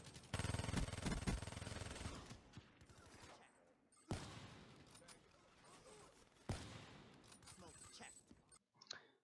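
Sniper rifle shots in the video game Call of Duty Black Ops III, three sharp loud cracks spaced a few seconds apart, each trailing into a reverberant tail over a busy battlefield mix.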